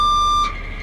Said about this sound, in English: And you have your backup alarm over there.